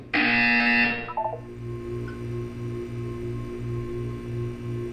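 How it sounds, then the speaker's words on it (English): A Portal 2 test chamber buzzer: a loud, bright electronic tone cuts off after about a second, then a low buzzing drone pulses steadily over a faint hum. "When you hear the buzzer, look up at the ceiling"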